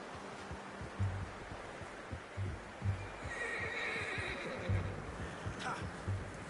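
A horse in Red Dead Redemption 2 whinnies and snorts at moderate distance, with soft hoof clops and low rumbles scattered through, all fairly quiet.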